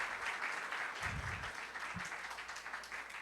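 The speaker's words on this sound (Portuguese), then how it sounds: "Palmas." A church youth gathering breaks into applause from the congregation, a steady, fairly distant wash of clapping with a couple of low thumps partway through.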